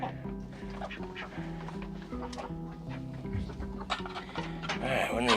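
Ducks quack repeatedly in a poultry pen, with overlapping clucks from other fowl. The calls are fairly quiet and steady, and a person talks over them.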